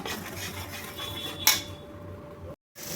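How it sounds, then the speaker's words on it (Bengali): Spice masala being stir-fried in a pan for an egg curry, with steady scraping and rubbing of a utensil against the metal, one sharper clatter midway, and a brief dropout near the end. "এবার আমি সমস্ত উপকরণ দিয়ে ভালোভাবে মশলাটা কষাবো।"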